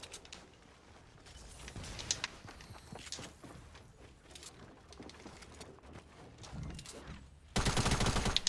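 Fortnite gunfire during a solo match: scattered faint shots and footsteps give way to a sudden loud, sustained burst near the end.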